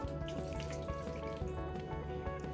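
Water poured steadily into millet flour dough in a home kitchen, a continuous splashing trickle heard up close with a faint background hum.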